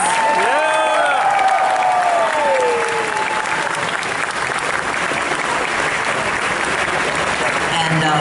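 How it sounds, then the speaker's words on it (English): Sustained, loud applause from a large convention crowd at BronyCon 2018, steady dense clapping throughout with a few brief tonal sounds near the start. "Please give them a big round of applause"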